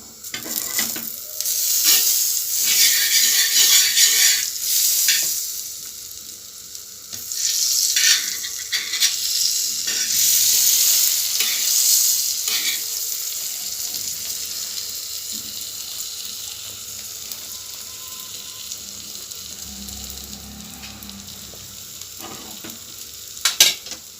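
Butter sizzles on a flat griddle pan while a sandwich is made, a loud hissing fry that swells and fades in waves with scraping and clatter, easing to a quieter sizzle toward the end.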